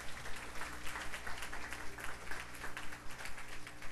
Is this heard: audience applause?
yes